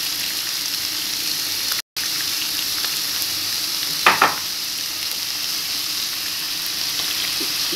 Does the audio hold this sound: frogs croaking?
no